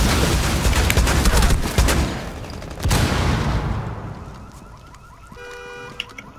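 A flashbang grenade detonates in Rainbow Six Siege, a loud broadband blast near the start with a sharp second burst around three seconds, then a fading ringing tone and faint game sounds.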